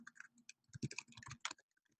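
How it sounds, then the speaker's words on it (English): Quick, irregular clicks of keys being typed on a computer keyboard, close and quiet, in short bursts with brief pauses. "I can't even see where I'm typing"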